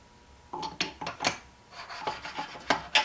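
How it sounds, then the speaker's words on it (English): Two metal Ford C6 transmission parts rubbed against each other: short rasping scrapes in an irregular series of about a dozen strokes, close and fairly quiet with no talk. "Give them a little rub together like that"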